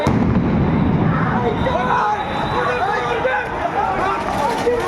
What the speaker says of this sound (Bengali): বারবার কিন্তু সাউন্ড গ্রেনেড নিক্ষেপ করছে আইনশৃঙ্খলা রক্ষাকারী বাহিনী।